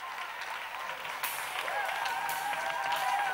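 Steady applause fills a church as the congregation claps, swelling a little partway through, with scattered voices and cheers audible under the clapping.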